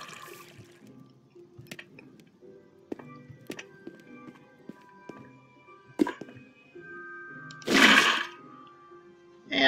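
Water poured from a bucket in Minecraft, a short rushing splash alone near the end, after a string of sharp block-placing clicks and taps.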